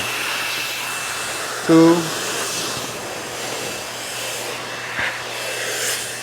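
A REDMINUT dog hair dryer blowing with a steady, even airy whoosh throughout, briefly broken by a short spoken word.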